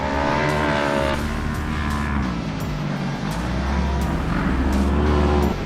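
A race car on a short course track at Firebird Motorsports Park, the engine roaring continuously and loudly with revving pitch shifts as the driver works the throttle through turns, heard up close.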